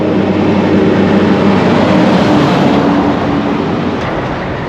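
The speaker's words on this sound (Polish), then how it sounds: "ale najpierw damy przejechać głośnym ciężarówką" A loud truck rumbles past on a road near a lake in El Salvador, a steady, heavy roar that fills the whole stretch and eases slightly at the end, with no talk over it.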